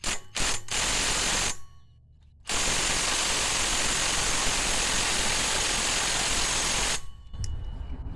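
An impact gun hammers on the clutch of a Predator 301cc big block engine from a 1968 Tote Gote 770. A few short close bursts come first, then a brief pause and one long, loud sustained rattling run.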